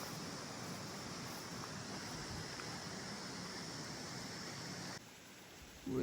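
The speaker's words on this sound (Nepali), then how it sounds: "पानी बगिरहेको छ यहाँ" A clear mountain stream flowing near a ward office in Dolakha, Nepal, giving a steady, faint, even rushing that continues without pause and rises with a brief louder bump at the very end.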